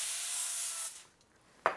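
A short hiss of cooking spray from a can lasts under a second, followed by a pause and a small knock.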